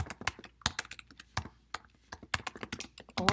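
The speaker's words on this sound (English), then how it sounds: "I'm going to just type description, demo using terminal for Python" Quick, uneven keystrokes clatter on a computer keyboard as someone types in a terminal, with bursts of sharp clicks and brief pauses between words, close and clear.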